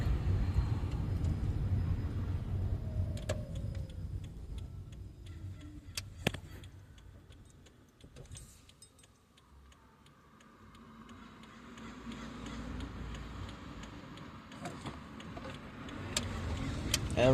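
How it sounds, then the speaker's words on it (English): Los Angeles street traffic heard from inside a car: a steady low rumble of engines and passing vehicles that eases off midway and swells again, with faint ticking and clicks throughout. "LA fucking traffic."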